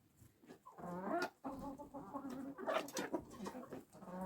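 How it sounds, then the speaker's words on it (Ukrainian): A broody hen clucking up close in a backyard flock, a quick series of throaty clucks and short calls in uneven bursts, fairly quiet, with no talk. "Куриця це квочка наша, вона щороку у нас."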